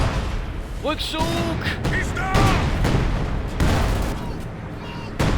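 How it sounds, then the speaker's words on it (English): Field gun barrage firing in the video game Company of Heroes 2: several booming artillery bursts spaced across a few seconds, mixed with battlefield noise, a shouted in-game German command and an overlaid commentator's voice. "And there go field gun firing as well, a supportive barrage."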